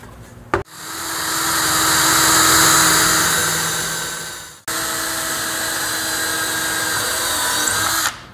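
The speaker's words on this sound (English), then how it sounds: "I've already marked here on my box where I want to drill my holes" A power drill bores holes through a wooden cigar box for bolting on a guitar neck, two loud steady whining bursts separated by a brief pause, with no voices.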